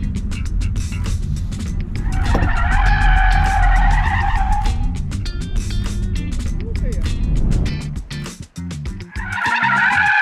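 BMW i5 electric sedan cornering hard during a handling test, tires squealing loudly in long sustained bursts over steady road and wind noise, with someone talking throughout.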